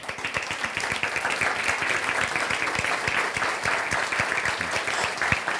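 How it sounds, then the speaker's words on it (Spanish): Hearty applause from an audience welcoming guest Carlos Pérez Guartambel, sharp individual claps clearly distinct in a steady, lively rhythm that holds throughout with no talk. "para quien pido un fuerte aplauso"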